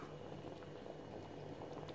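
A pot of broad bean and bone curry with coconut bubbles at a steady simmer, a soft continuous gurgling and popping heard close and alone, with no talk.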